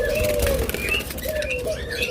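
Pet birds in a shop, including lovebirds, cockatiels, budgies and forpus, giving soft cooing and short chirping calls that repeat in quick succession against a low background hum.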